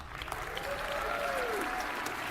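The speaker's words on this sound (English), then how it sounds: "I think that was your team applauding for you back there." Audience applause fills a large venue at the Atlassian Unleash event, a steady wash of many hands clapping throughout the moment with faint crowd murmur underneath.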